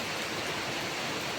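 Heavy rain pours steadily on MG Road in Haveri, a dense, even hiss that fills the whole moment with no pauses and no other sounds standing out.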